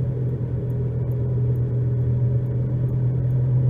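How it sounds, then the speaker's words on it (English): Steady low rumble and road noise inside a moving car with a bad wheel bearing, cruising at around 30, a constant droning hum without a break and no voices. "I got a pretty significant amount of road noise there and vibration"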